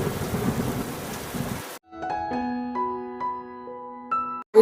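A cartoon rainstorm plays as a dense rushing downpour with a low thunder rumble for nearly two seconds, then cuts off abruptly as a simple melodic tune takes over.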